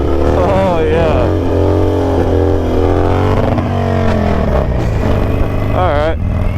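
Motorcycle engine revving hard and climbing in pitch through a power wheelie on a first ride after eight months, loud and close with shifting rising tones, while people talk over it.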